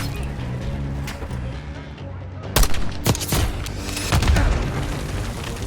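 Mortar explosions and gunfire in the Call of Duty Black Ops 6 video game, several sharp booms and bursts landing over a steady battle din, with voices in the background.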